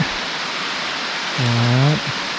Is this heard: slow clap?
no